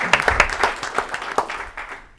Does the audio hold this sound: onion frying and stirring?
no